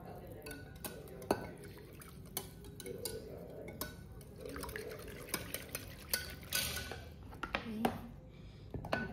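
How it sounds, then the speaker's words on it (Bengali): Milk is whisked in a pot, giving a run of quick irregular metallic clinks and taps against the pot's sides, close and moderately loud over faint background room noise. "পাটপাকে দুধটা দিয়ে দেবো, এটাকে ভালো করে ফেটিয়ে নেবো"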